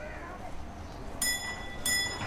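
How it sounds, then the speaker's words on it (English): An old train pulls into a railway station in Sri Lanka, a low steady rumble broken by two short, bright ringing metallic tones about half a second apart, heard fairly close. "And now the old train arrives"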